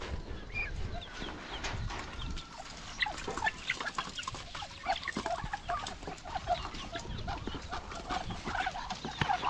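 A large flock of chickens on an upland farm clucks continuously, close and fairly loud, with overlapping calls and some rustling, and no talking.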